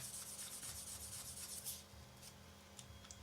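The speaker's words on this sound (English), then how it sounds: "then with our polishing sponge this way" A polishing sponge rubs quickly back and forth over a plastic 1/72 Eduard B-24 model aircraft part, close and quiet, with short scratchy strokes that slow and thin out toward the end.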